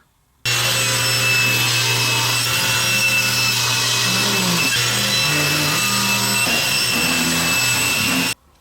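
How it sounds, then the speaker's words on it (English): Thin strips of ABS plastic are cut by a power saw, which gives a loud, continuous whining cut of about eight seconds with a steady hum and slight shifts in pitch as the blade works through. "we need to cut some thin strips of different colors of the ABS"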